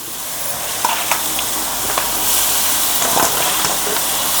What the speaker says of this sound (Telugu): ఇప్పుడు పాలకూర వేసుకుందాం.